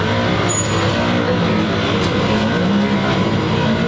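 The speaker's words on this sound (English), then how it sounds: "But it makes that noise, it is probably the transfer case because it's like it's in neutral." A vehicle's drivetrain, likely the transfer case, makes a steady rough mechanical drone with a faint whine rising over it, loud and continuous throughout.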